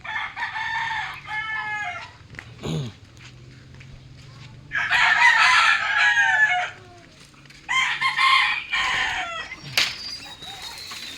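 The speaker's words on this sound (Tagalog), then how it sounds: "tignan nyo yung aking munting manukan" Roosters and hens in a small backyard coop crow loudly in repeated long calls, with soft clucking and scattered farmyard noise in the gaps.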